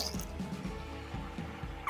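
Liquid trickles and drips from a half-liter container into two small quarter-liter jars, heard as soft, close pouring and dripping sounds at a low, steady level.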